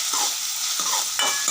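Tomatoes fry in a pan with a steady sizzle, broken by a few quick scraping stirs of a spatula, close and without talk.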